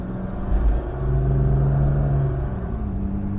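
A 1967 Jaguar Mark 2 accelerates hard at road speed, its engine droning in a steady low rumble that rises and then drops as the automatic gearbox shifts up.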